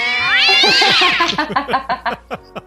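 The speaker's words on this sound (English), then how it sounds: "Yeah, where are all these fucking cats coming from?" A cat lets out a drawn-out, rising meow, then a fast string of shorter yowling meows that taper off, loud and close with no other sounds.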